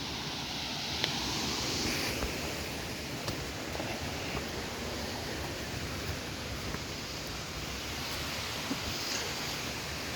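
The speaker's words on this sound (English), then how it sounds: "Still water, running water." Stream water running over smooth, rounded rocks among pools, a soft continuous wash and hiss that stays steady and fairly faint, with no voices.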